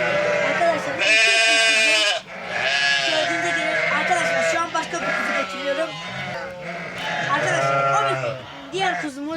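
Lambs bleat repeatedly, loud and close, with high wavering cries overlapping one another in quick succession.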